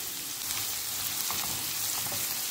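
Ginger and garlic sizzle in hot olive oil in a preheated pan, a steady close frying hiss with faint crackles and no talking.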